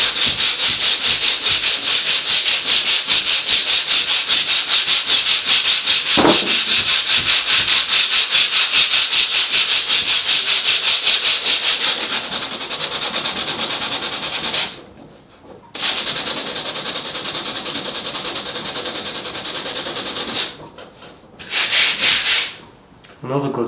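Sandpaper rubs by hand over wood primed with Zinsser B.I.N primer in fast, even back-and-forth strokes, close and loud, pausing briefly a few times near the end.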